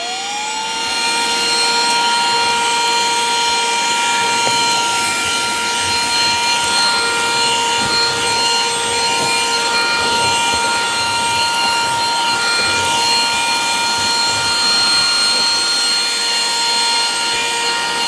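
A Fanttik Slim V7 handheld vacuum runs on high, a loud close whine with a rising spin-up at the start and a steady high-pitched motor drone that holds for the rest of the run.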